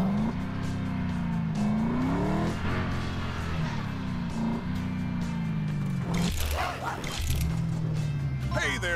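A car drives in the video game LEGO 2K Drive, its engine drone steady with pitch shifts and brief tire squeals near the end, while a character's voice talks over it.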